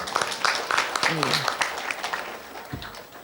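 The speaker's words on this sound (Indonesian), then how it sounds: "Tepuk tangan Bapak Ibu" An audience of parents claps at an elementary school Quran-memorization graduation and year-end ceremony in a hotel hall, a busy patter of hands that thins out, with an amplified voice speaking over it.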